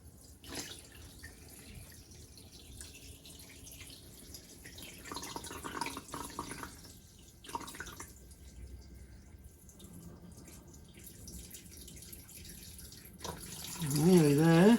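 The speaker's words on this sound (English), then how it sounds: "So we're going to add our water." Mature aquarium water from a fish tank trickles and splashes as it is poured into a fishing spider enclosure, growing fuller near the end.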